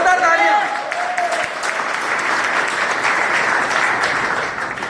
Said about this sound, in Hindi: बहुत शानदार होस्टिंग के लिए जोरदार तालियां